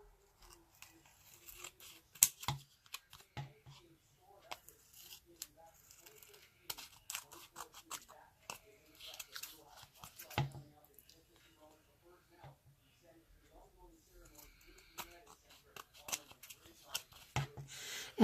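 Paper for an artist trading card stamp cut with scissors, a string of crisp close snips and slicing crunches under light handling rustle, while a person talks quietly at moments between cuts.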